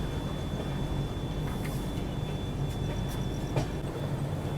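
Train rolling along the Kasara Ghat railway route under cloudy skies, a steady low rumble with faint rail clatter continuing evenly throughout, fairly distant and without talk.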